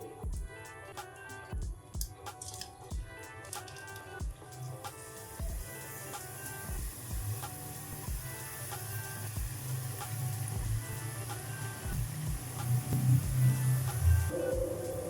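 Aloo bhujia fries in hot oil with close, steady sizzling and crackling bubbles that grow denser and louder toward the end, with scattered sharper pops. There is no talking.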